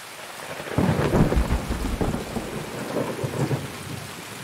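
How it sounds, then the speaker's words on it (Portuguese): Rain pours steadily in Escape from Tarkov, with low rolling thunder rumbling through a downpour that holds across the whole stretch, loud and enveloping with no voices. "Essa chuvinha no Tarkov dá um sono."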